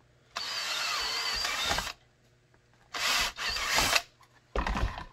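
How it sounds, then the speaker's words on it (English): Power drill boring holes in material for a Springfield Hellcat IWB holster, three loud close bursts of whining drilling separated by short pauses, no talk. "drill your holes"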